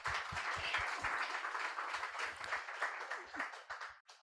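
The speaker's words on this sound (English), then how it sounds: "maybe a round of applause" Quiet round of applause from a conference audience after a presentation, a smattering of hands swelling and then fading with a few low thumps, dying away abruptly after about four seconds.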